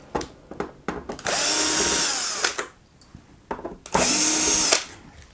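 A power driver with a T9 bit backing screws out of an Xbox One console: loud whirring bursts in two long runs, separated by short clicks and handling noises, close up.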